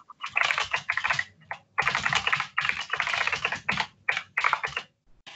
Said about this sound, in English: Clickety clack. Man, you got a mechanical keyboard from hell there.